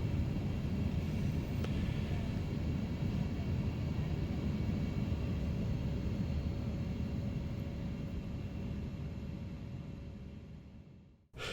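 Continuous low airplane cabin rumble during flight, a steady broad roar that holds evenly before fading away at the end.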